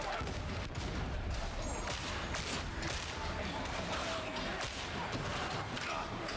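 Gunfire in Warhammer 40K Darktide rattles in dense, continuous volleys of loud, overlapping shots, forming a thick battle din for the whole stretch.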